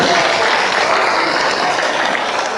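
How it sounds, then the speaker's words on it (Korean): Guests at a lunchtime gathering with a folk performance troupe break into applause, a dense, loud wash of many hands clapping steadily and close throughout. "박수 한번 쳐주세요"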